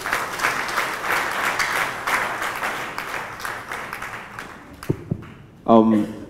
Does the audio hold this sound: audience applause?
yes